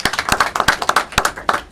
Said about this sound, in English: Everybody is clapping.